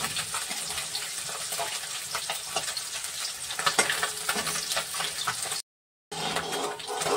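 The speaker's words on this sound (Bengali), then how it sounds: "পুঁটি মাছটাকে ভালো করে একটু ভেজে নিচ্ছি এপিট এপিট করে" Small puti fish frying in oil, a loud continuous close sizzle with crackles and occasional spatula scrapes, broken by a brief total silence near the end.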